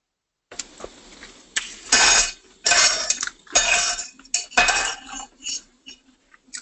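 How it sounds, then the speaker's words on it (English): Someone washes dishes nearby on a webinar call. Plates, pots and cutlery clink and clatter in irregular bursts, some loud and close, with brief pauses between them and no talk. "someone's doing the dishes"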